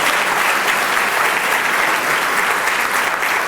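An awards ceremony audience at the SA Professional Services Awards 2016 gives a round of applause. The clapping is loud and continuous throughout and stays even, with no speech over it.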